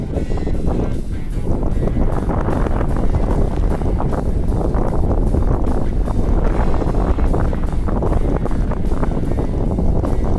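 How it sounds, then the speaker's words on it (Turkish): Strong wind roars and buffets loudly and continuously against the microphone on high open ground at İnönü, Eskişehir, a dense rumbling blast with no letup. "Şu anda rüzgardan zor duruyorum."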